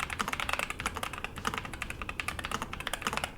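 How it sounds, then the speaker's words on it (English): A NuPhy Air60 keyboard placed on a MacBook is typed on quickly, giving a dense, steady run of crisp, close key clicks with no voices. "you can actually type on it as if it was the actual MacBook keyboard."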